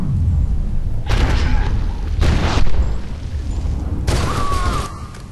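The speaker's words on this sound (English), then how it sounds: "Might as well pull out my shotgun for this." Shotgun blasts in the game F.E.A.R. 2, three heavy booming shots spaced about a second apart, loud and close over a rumbling game background.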